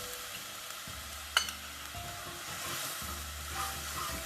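Chicken sizzling and frying in a pan right after yogurt is added, stirred with scraping strokes, with a steady moderate fry hiss and one sharp clack of the utensil partway through.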